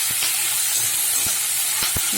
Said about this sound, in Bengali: ওই লাউয়ের খোসা ভাজবো